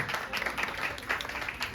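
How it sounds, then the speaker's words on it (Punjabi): An audience at a Teej festival gathering claps in a brief, moderately loud burst of scattered applause with some faint voices mixed in. "ਆ ਜੀ ਤਾੜੀਆਂ ਰੈਗੂਲਰ ਮਾਰ।"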